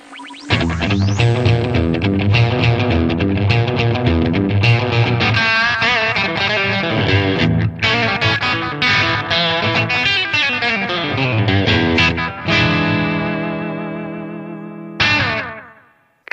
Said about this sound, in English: Now with the carbon copy, let's start with the slap setting.